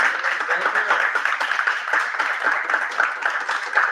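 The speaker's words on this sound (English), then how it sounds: "Can we get a round of applause?" Audience applauding a guest speaker at the end of a talk, a continuous, moderately loud round of many hands clapping that holds steady, with some voices underneath.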